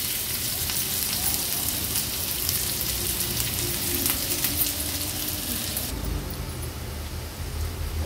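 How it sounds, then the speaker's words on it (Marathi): Sliced onion fries in a pan on a stovetop, giving a steady close crackling sizzle that stays even throughout. "आता कांदा छान आपल्याला शिजवून घ्यायचा आहे।"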